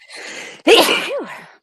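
A single loud sneeze with a sharp intake of breath beforehand, close and alone, trailing off into a short vocal sigh.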